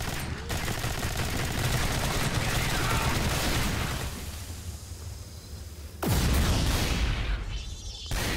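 Automatic weapons fire in the co-op sci-fi shooter Alien Swarm, dense rattling bursts with a quieter stretch midway, then a sharp heavy blast, while players talk over it.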